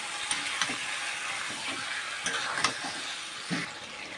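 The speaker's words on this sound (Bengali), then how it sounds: "তো এইভাবে আমি এখন মাংসটাকে সুন্দর করে কষাতে থাকবো" Mutton sautéing in a pan for a thin goat curry, a steady bright sizzle with intermittent scraping stirs every half second or so, close and moderately loud with no talking.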